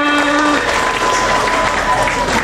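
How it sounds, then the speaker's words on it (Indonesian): An audience at a high school parenting seminar breaks into loud, sustained applause that fills the room evenly, while a voice carries on faintly over the clapping. "Boleh saya dengar tepuk tangan semangatnya deh bagi kita semuanya."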